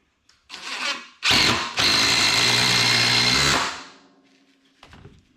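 A power drill drives screws into a wooden shelving unit, a short burst followed by a longer, loud, steady whirring run close by, ending with a few light knocks.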